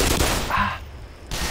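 Gunfire bursts in the video game Black Mesa, a loud opening volley that fades into quieter game sounds, followed by another sharp burst near the end.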